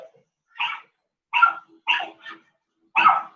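Dog barking at someone walking past a house, five sharp barks in an irregular sequence, heard at a distance from indoors over a quiet background.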